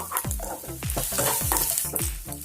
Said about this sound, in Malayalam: നന്നായിട്ട് ഫ്രൈ ആയിട്ട് വരണം